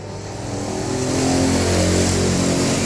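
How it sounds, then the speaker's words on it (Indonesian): A motorbike engine on a roadside street by a shop rises in a revving drone, growing louder as it nears and passes close by, heard alone without speech. "nanti suaranya agak suara motor karena di sini di pinggir jalan"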